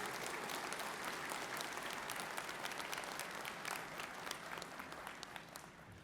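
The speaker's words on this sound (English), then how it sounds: "How about another round of applause?" Applause from the audience at a VFW national convention, a dense, sustained round of clapping with individual claps standing out, holding steady and easing slightly toward the close.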